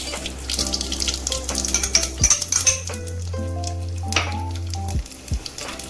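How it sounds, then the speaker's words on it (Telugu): Tempering seeds dropped into hot oil for pappu charu crackle and spit in sharp bursts, with sustained tonal notes running beneath the sizzle. "నెక్స్ట్ మనము ఈ పోపు గింజలు వేసుకోవాలండి"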